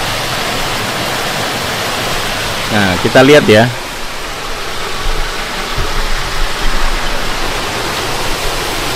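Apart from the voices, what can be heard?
river water flowing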